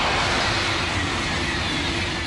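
A loud, continuous roar of a high-speed train rushing past close by at 300 km/h, a dense wash of rushing air and rail noise.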